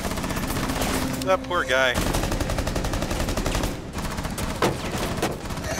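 Dense, sustained automatic gunfire fills Rainbow Six Siege as shots are fired through a wall on the Kafe Dostoyevsky map, rattling rapid bursts from several guns under brief speech.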